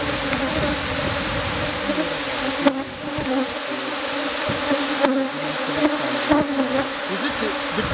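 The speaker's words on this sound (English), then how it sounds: "Those are guard bees." Honeybees buzz steadily around the base of a hive fitted with a venom collector, a dense continuous insect drone close by with a few soft knocks and no talking.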